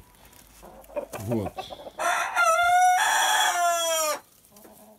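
A young rooster clucks a few times, then lets out a long, full crow with a drawn-out ending, close by, and someone says a single word before it.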